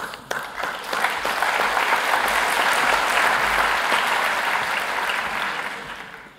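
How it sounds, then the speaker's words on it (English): Applause from a conference plenary audience greeting a speaker, a full, loud roll of many hands that builds quickly, holds steady for several seconds and then fades away. "Very nice for applauding before I even said a word."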